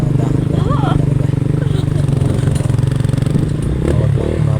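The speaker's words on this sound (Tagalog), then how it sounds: "Kaya na ako sa motor basta dahan-dahan talaga." A motorcycle rides slowly over a rough dirt road on the way to Little Palawan in Norzagaray, Bulacan, its engine a steady close drone with clattering and scraping from the bumpy surface.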